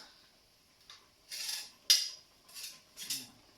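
Several light metallic clinks and scrapes, a lid settling onto a saucepan of apricot and sage stew, close by and fairly quiet, in short bursts with pauses between.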